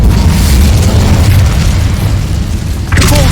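The Incendio fire spell in Hogwarts Legacy goes off as a loud, sustained roaring burst of flame, dense and close throughout, with a brief sharper crackle near the end.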